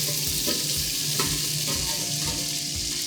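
Chopped onion, celery and carrot with thyme and rosemary sizzle steadily in a pan for Thanksgiving gravy, with a few soft stirring scrapes over the continuous close frying hiss.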